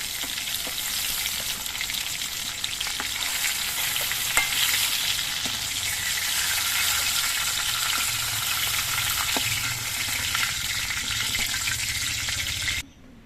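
Pointed gourd (potol) pieces frying crisp in oil in a kadai, a dense continuous sizzle and crackle with occasional stirring taps, close and steady until it cuts off at the end.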